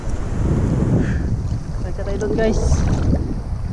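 Strong wind buffets the microphone around a fishing boat on rough, wavy water, with water sloshing and rumbling throughout. Someone talks briefly over the noise.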